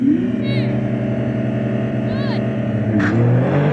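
In a video game, a Nissan GT-R Nismo, Honda NSX and Porsche 911 Turbo S launch in a drag race, with a loud, steady engine drone rising in pitch. Short electronic chirps sound over it and a voice speaks briefly.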